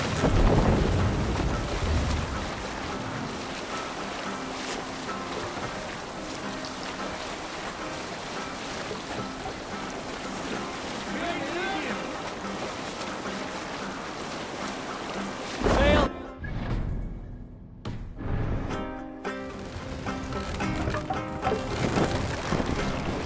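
A sailing ship at sea in Assassin's Creed Valhalla, with rushing wind and surging waves forming a dense, loud wash. The roar drops out briefly near the end and then swells back in.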